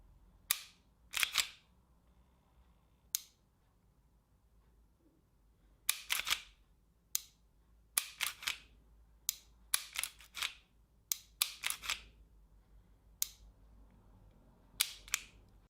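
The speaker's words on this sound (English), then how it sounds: "On a brand new CO2 bulb, the pistol was very inconsistent in regards to its action and felt recoil." A Secutor Bellum CO2 gas blowback pistol fires on a new CO2 bulb, sharp, snappy pops with a metallic slide clack, some single and some in quick clusters, spread unevenly across a quiet background.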